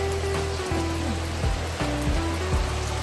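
Rain falling steadily outdoors, a dense constant patter and wash with occasional louder drips and thuds, close and even throughout over a low hum.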